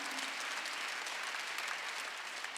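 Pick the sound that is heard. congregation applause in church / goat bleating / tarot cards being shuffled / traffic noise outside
congregation applause in church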